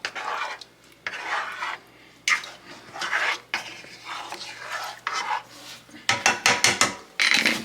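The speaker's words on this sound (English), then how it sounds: "We're gonna stir this up" A spoon scrapes and stirs melting butter and cheese in a pot for mac and cheese, with repeated rhythmic scraping strokes close up and brief pauses between bursts.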